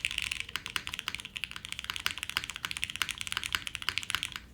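Steady, rapid typing on a Pixelspace Shadow80 mechanical keyboard fitted with H1 switches, with crisp, close keystrokes clattering continuously with no talk.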